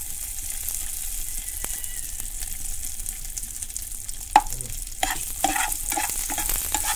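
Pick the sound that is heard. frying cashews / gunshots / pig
frying cashews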